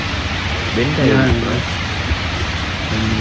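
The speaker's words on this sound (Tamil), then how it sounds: "செம்ம மழை வழியில் ஃபுல்லாகவே மழை பெஞ்சிட்ருக்கு" Heavy rain falls steadily as a loud, dense hiss along a road, close and constant, with someone speaking over it partway through.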